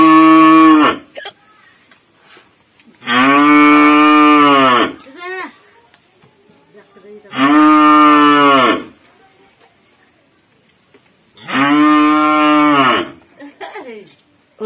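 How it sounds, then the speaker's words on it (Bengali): A village cow in Bengal lets out four long, loud moos at a steady pace, with short pauses between calls that are nearly silent. "বাবা আসেনি বলে ওই গরুটা চিৎকার করছে"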